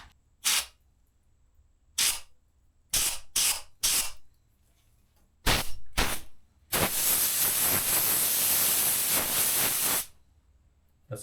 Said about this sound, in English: What it also says is to blow these out. Now I have an air compressor.